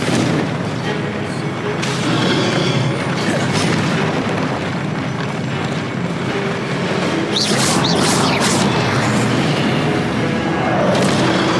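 Loud, continuous booming blasts and crackling impacts of the Confringo fire spell being cast during Hogwarts Legacy gameplay on PS4, with a steady roar of spell effects and no clear pauses.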